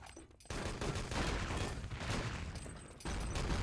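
Grenade blasts and dense gunfire from Enemy Territory during a 6on6 LAN tournament match, with a loud broadband burst at about half a second and another near the end, over continuous rattling combat noise.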